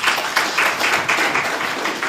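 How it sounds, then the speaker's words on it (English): Applause from the audience at a regional state address in Otjozondjupa, a dense, steady patter of many hands clapping at close range for about two seconds with no speech over it. "Give him a round of applause."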